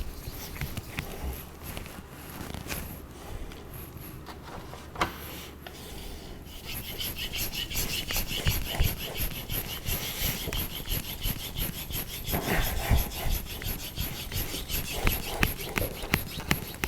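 A kitchen knife is stroked back and forth across a wet Japanese whetstone (Tojiro or Morihei), giving close, rhythmic gritty rasping and scraping that grows steadier and louder partway through.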